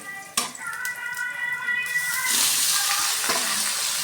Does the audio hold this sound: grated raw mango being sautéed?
yes